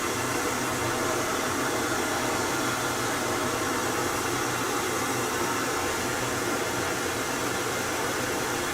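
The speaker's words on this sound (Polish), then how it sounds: "Jeszcze włączę teraz pochłaniacz oparów. Trochę będzie szumiał" A fume extractor fan at a workbench where a Japanese PS3 is being modded whirs steadily, a loud broadband rushing hiss that holds constant throughout with no pauses.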